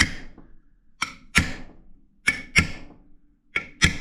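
Sharp metallic hammer strikes on a chisel bending sheet metal held in a vise, about seven blows in an irregular rhythm with brief ringing, close by.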